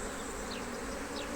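Honeybees drone in a dense, steady buzz around an opened hive during a colony inspection, the hum close and unbroken with a few passing bees rising briefly above it.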